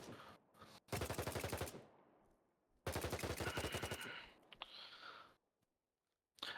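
A scoped weapon in a video game fires two long, rapid bursts of automatic gunfire, loud and close, separated by a short pause, with brief clicks and quiet gaps around them and no talking.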